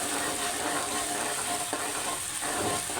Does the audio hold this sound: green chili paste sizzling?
yes